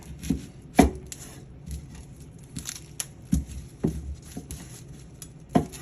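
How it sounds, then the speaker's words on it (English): Knife chops through an onion on a cutting board, firm irregular thuds and crisp slices scattered over several seconds, close and fairly quiet with no talking. "First, take the onion, cut it in half."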